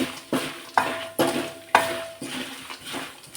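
Turmeric powder being stirred into frying oil in a pan, heard as a steady run of sharp metal-on-pan scrapes and clinks, about eight strokes in an even rhythm, close and fairly loud with no voices.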